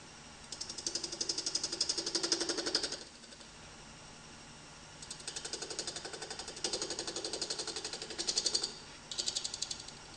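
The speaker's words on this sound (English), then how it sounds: "Switch the lathe on" Wood lathe running while a groove is turned on an eccentric chuck project, with bursts of a fast, close buzzing chatter from the cut that start and stop several times over a low motor hum.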